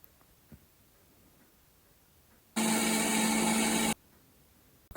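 A mixer grinder grinds cumin, green chillies, garlic and grated coconut in one loud, droning whir of just over a second, starting abruptly and cutting off sharply amid near silence with a few small clicks.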